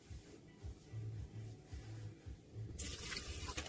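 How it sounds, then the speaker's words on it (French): Water poured into a Monsieur Cuisine mixing bowl for baguette dough, a low soft trickling and splashing, faint and close, with a brighter hiss near the end. "on va commencer par mettre 430 g d'eau."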